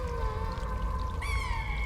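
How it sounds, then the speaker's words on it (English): Cats in the video game Stray let out drawn-out, wavering meows over a low steady game ambience, with a higher cry rising near the end; no one speaks. "They're meowing."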